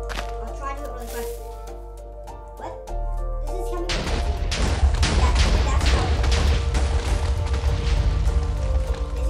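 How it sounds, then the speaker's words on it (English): Chemical TNT from the Minecraft Too Much TNT mod goes off: after a few seconds of quieter sounds, a loud, sustained rumbling blast begins and roars on for several seconds with crackling debris, and it is heard alone. "Let's see how big the explosion is when it's caught underneath."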